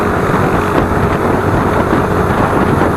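A Yamaha All New Aerox 155 scooter engine pulls steadily uphill, its even drone mixed with heavy broadband rush that stays constant and loud throughout, with no talk.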